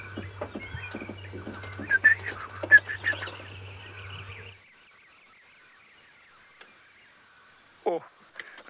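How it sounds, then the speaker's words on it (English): Robin chat, grey-capped warblers and turacos call from the bush on an evening safari drive, a mix of chirps and whistles, fairly faint and distant, with a louder call near the end after a quiet stretch. "Oh, I can hear grey-capped warblers, I can hear turacos."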